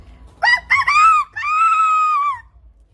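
A person imitates a rooster crowing, giving two short clipped calls followed by a long, drawn-out crow, loud and close, with no other talk.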